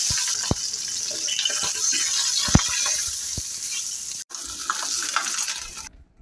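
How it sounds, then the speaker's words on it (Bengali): A fish fries in a pan at home, with a continuous sizzling hiss and scattered sharp clatters of the pan and utensils. The sound cuts out briefly midway and fades near the end. "ছেলের জন্য একটা মাছ ভেজে দিচ্ছি"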